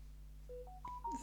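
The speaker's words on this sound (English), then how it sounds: "That was my phone." A phone gives a short run of rising electronic beeps, about four tones stepping upward over a second, faint and alone against a low steady hum.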